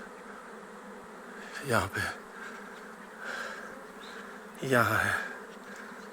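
An aggressive swarm of honeybees buzzes around a mango tree after being disturbed with thrown soil, with louder swells as bees fly close past, while someone speaks briefly.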